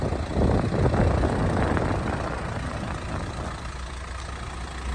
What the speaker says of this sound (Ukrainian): Зараз автомобіль заведений, мотор працює чітко